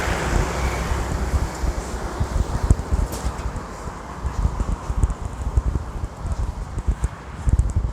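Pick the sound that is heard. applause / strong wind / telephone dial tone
strong wind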